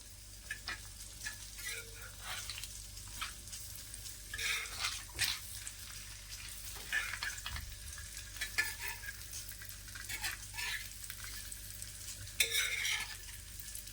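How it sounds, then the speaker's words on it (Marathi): Eggs frying on a tawa for a dhaba-style tawa egg masala: a steady faint sizzle with scattered spatula scrapes and stirs, no talking. "आता जी अंडी होती ना ती आपल्याला अशी फ्राय करायची"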